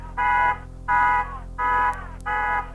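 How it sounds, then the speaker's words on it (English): An alarm buzzer sounds at a high school baseball field during a tournament game, four long even electronic tones with short gaps between them, loud and clear and with no talk over it. "The alarm's sounding here."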